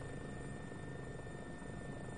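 Helicopter engine in the X-Plane 10 flight simulator, a steady dense whine and rotor drone holding constant throughout with a thin high tone riding above, and no voices.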